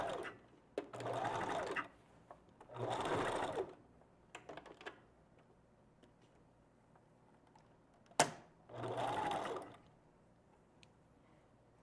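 A sewing machine stitches close alongside wig hair in three short whirring runs separated by quiet pauses. Faint clicks and a sharp snap fall between the runs.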